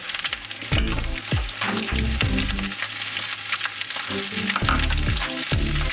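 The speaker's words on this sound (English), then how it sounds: "As you can see, everything is sizzling in there. It means the pan is nice and hot." Fried rice sizzles loudly in a hot pan, a dense, crackling hiss with repeated scraping and tossing strokes of a utensil, close and continuous with no talk.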